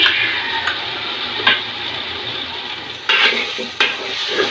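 Raw cumin, bay leaf and cinnamon paste drops into a hot cooking pot with a soft sizzle, broken by a few sharp scraping and stirring knocks.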